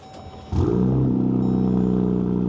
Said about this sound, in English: Kelly, let's start this truck